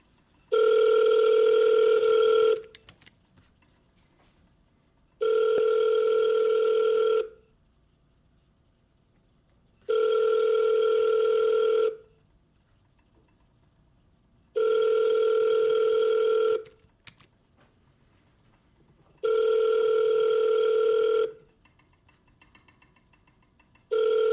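A telephone ringback tone sounding five times in evenly spaced two-second bursts separated by pauses, clear and steady over faint background hiss.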